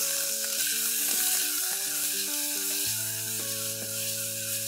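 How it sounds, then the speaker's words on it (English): Onions sautéing in a pan with ginger and garlic paste give a steady, loud sizzle and frying hiss, with soft stirring throughout and no talking. "I'm going to add a teaspoon of ginger paste, a teaspoon of garlic paste, and saute it."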